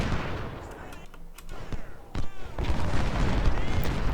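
Musket volleys crack and boom through a Civil War battle in the video game Ultimate General: Civil War, with scattered shots over a dense roar of distant gunfire and battle noise.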